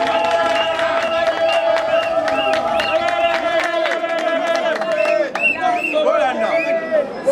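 A crowd claps and cheers at a Congolese political gathering after the CENI president is announced, rapid dense applause with shouting voices and music layered over it.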